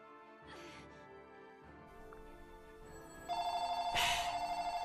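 A real telephone starts ringing with a loud, steady trilling ring over quieter game music and sound.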